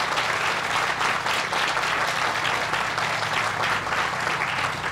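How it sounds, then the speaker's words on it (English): Steady, dense applause from a large audience at a groundbreaking ceremony for a Salvation Army Kroc Corps community center, sustained and even throughout with no voices over it. "Let's give them a round of applause and thank them."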